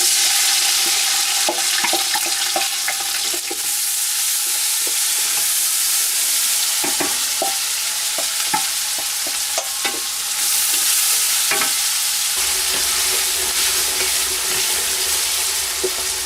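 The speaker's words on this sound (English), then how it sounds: "Hear that lovely sizzling." Onions and curry leaves sizzle loudly in plenty of oil over a high flame for a lamb curry, a dense, steady hiss with frequent clinks and scrapes from vigorous stirring.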